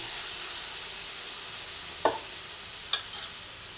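Mughlai chicken curry with water added, stirred in a pan over steady sizzling, with a few distinct scrapes of the spoon against the pan near the end, no talking.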